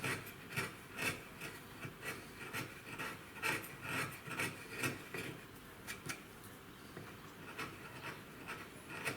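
A wood chisel paring a flat wooden surface in steady, close, rasping strokes that repeat in a loose rhythm, each a short scrape with no pause between them and no talk.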